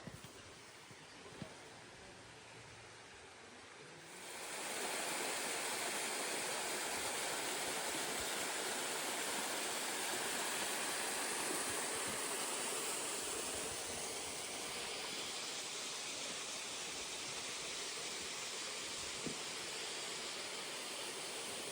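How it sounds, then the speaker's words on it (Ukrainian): A mountain waterfall near Truskavets roars as a steady broadband rush that swells in after a few seconds of quieter outdoor ambience and then holds constant and full, close by, with no talking. "тут отам водоспад, я ото намагаюсь до нього дойти"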